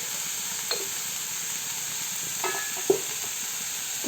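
Onions salted and softening in a hot pan give a steady, even sizzle throughout, with a few faint scrapes and clinks of stirring near the middle and toward the end.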